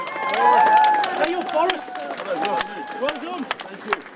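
Crowd on Rynok Square in Lviv greeting Boris Johnson with steady clapping and cheering, voices and calls mixed into the dense applause throughout.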